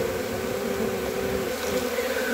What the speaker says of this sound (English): there's 5-6 pounds of bees in this thing